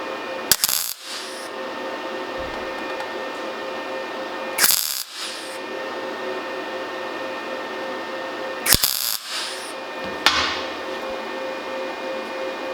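Short MIG welding bursts on thin steel auto body panel at 17 volts, about three brief crackling tacks spaced several seconds apart, close and sharp against a quiet hum.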